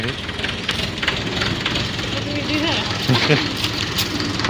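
A tractor engine runs steadily just after being started, a dense continuous rumble filling the whole stretch at close range, with a voice briefly heard over it near the end.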